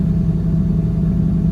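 A Subaru Legacy car engine during a burnout, a loud, close, deep rumble held steady through a short burst.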